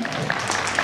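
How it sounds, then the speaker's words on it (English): Brief burst of audience clapping for students at a school prize-giving, a short dense patter with a couple of sharper claps, fairly close. "Clap for them, clap for all the students."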